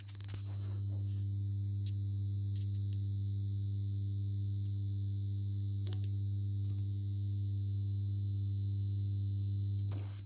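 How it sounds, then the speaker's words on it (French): Steady electrical hum from the magnetic ballast of a 1973 Holophane VM2 mercury vapor street lamp with a Philips bulb, a loud constant drone with faint higher buzzing overtones and a few small clicks, no talking. "Et voilà, on entend le ballast."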